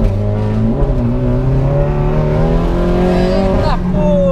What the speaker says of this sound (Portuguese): Os carros já estão saindo aqui.